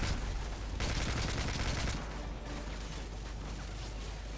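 Bursts of automatic gunfire from a newly acquired weapon in Call of Duty: Modern Warfare 3, set in Paris, fire in a dense volley mixed with game background noise, sounding compact and fairly quiet.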